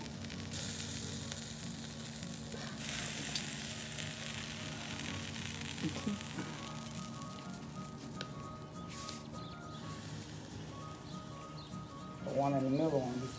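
Food sizzles and fries steadily in a pan, a bright hissing crackle that runs throughout, with a voice briefly heard near the end.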